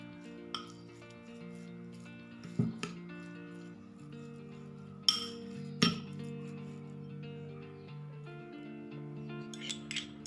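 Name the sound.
stirring a mixture in a bowl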